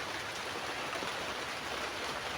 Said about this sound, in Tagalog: Umuulan po dito sa amin.